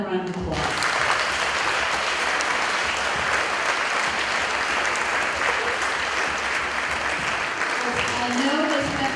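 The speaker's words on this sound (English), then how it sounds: "So let's give them another round of applause." Audience applause for children after their school stage production of The Wizard of Oz, a dense, steady wash of many hands clapping that fills the whole stretch at an even loudness, with some voices mixed in.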